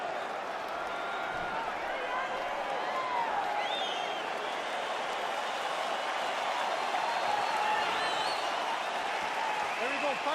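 A virtual arena crowd in an EA UFC 3 mixed martial arts bout roars with a steady, dense wash of cheering and applause, sustained throughout the final round with no breaks.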